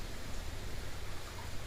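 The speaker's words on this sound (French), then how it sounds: "il tombe des cordes" Heavy rain pours down during a storm, a steady, dense hiss with no voices, close and continuous throughout the short stretch.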